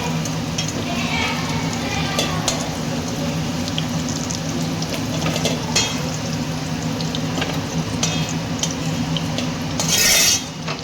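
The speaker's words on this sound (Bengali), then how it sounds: "তেলের মধ্যে ফুলকপিগুলো দিয়ে দিলাম, এগুলো ভাজা হোক" Cauliflower florets fry in hot oil in a home kitchen, a constant close sizzle with occasional utensil clinks and a brief louder crackle near the end.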